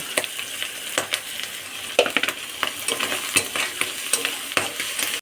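Mussels, already fried, sizzle in a pan with turmeric powder and ginger paste while a spoon stirs and scrapes them in repeated sharp strokes over a steady close frying hiss.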